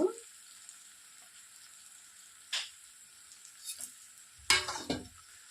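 Poha upma ingredients frying in a pan with a steady soft sizzle, broken by a few louder stirring scrapes and clatters, the clearest burst near the end; no one talks.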